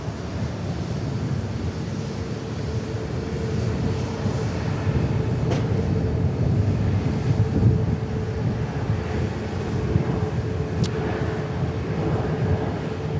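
Airliner arriving at Dallas Love Field from Charlotte: a continuous low rumble and roar, steady and fairly loud throughout, with two faint sharp clicks and no talking.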